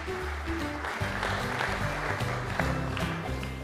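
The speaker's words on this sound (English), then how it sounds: "100 we have you, Mumbai, and another round of applause" Applause from the crowd at a kabaddi league player auction, moderately loud clapping running steadily under a low musical backdrop.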